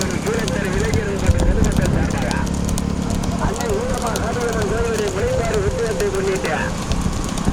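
Horse cart race in a village in Sivaganga district with twelve horses running, hooves clattering continuously under a loud crowd and an announcer's voice.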